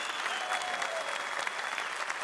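A crowd claps for the Ankara Kulübü seymen folk performers, producing steady, dense applause at moderate distance and fairly low level, with no gaps and no voices rising above it.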